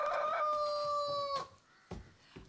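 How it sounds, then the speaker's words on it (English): A single rooster crows once, loud and close, the drawn-out call fading into quiet and followed by a couple of faint knocks. "I despise a flogging rooster."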